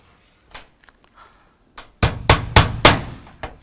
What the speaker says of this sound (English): I'm going to fasten it to the deck with 2 nails.